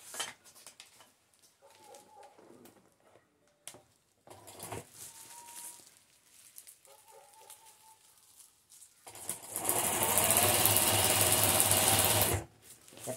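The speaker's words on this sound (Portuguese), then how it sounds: "E eu vou passar essa bainha com um zigue-zague." Sewing machine running a zigzag hem on a rug made from a corn sack and fabric scraps, with short start-stop bursts of stitching followed by a long, loud continuous run near the end.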